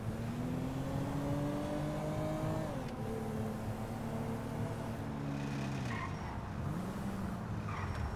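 Car engine in the Grand Theft Auto V video game revving up under acceleration, then dropping as it shifts and settles into a steadier drone, with faint tire noise late on and no talk.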